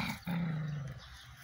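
A dog gives a single low, sustained growl of about a second while its tail is grabbed, close and clear with no talking.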